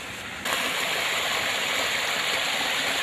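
Creek water gushes through a blocked culvert and floods out into a field, heard as a steady, loud, broadband rush at close range that swells suddenly after a brief quieter start.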